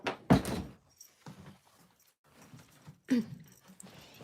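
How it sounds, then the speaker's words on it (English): A door is opened to let a dog out, with two solid thuds and a clunk a few seconds apart, plus faint rattling and handling noises between them. "You want me to let you out, Vivian?"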